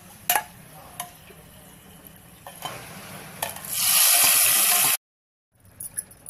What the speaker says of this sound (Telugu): ఇప్పుడు దీన్ని తీసి ఉడికిన కూరలో వేసుకుందాం